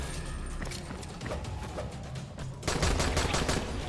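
Gunfire in the zombie game Dying Light, with rapid shots that thicken into a dense burst near the end, loud against a busy background.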